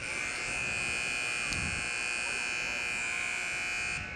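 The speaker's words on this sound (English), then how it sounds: "That was a very long buzzer as well." A long, loud electronic buzzer sounds continuously at an ice hockey rink before a women's college game, a steady harsh tone over arena ambience that cuts off after about four seconds.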